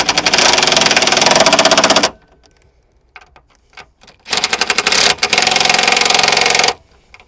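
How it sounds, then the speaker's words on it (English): Impact gun or ratchet tightening the battery hold-down on a 2003-2006 Toyota Camry, two loud rapid rattling bursts with a short quiet gap of small clicks between. "You don't want to keep cranking it down and cranking it down."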